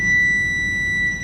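A multimeter set to continuity emits a steady, unbroken electronic beep while its red lead touches body ground on a Nissan NV3500 van; the tone is clear and constant for the whole moment.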